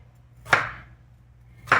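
Two sharp, separate knife chops cut through ridge gourd on a board, each a crisp close thud, spaced over a second apart against a quiet kitchen hum.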